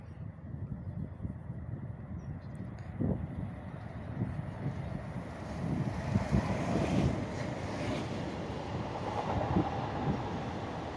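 A Corail passenger train passes outdoors, a steady broad rumble of wheels and carriages that swells toward the end, mixed with heavy wind buffeting the microphone.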